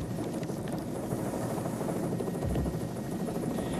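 Helicopter flying overhead, a steady loud rotor-and-engine drone with a thumping low end that holds throughout, swelling slightly near the end.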